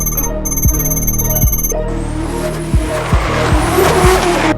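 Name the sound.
drift car skidding, tires squealing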